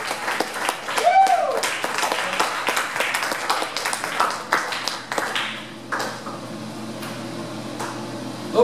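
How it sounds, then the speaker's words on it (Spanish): A congregation claps during a Pentecost church service, with dense applause for about five seconds that then thins out, while a room hum and some voices carry underneath. "Den un aplauso fuerte al Señor."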